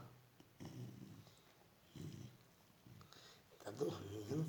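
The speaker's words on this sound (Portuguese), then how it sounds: "Nós vamos fazer agora a cachorra Mel, ela vai roncar." A sleeping pet dog snoring nearby, faint rhythmic low snores at roughly one-second intervals, quiet and close, with a louder snort near the end.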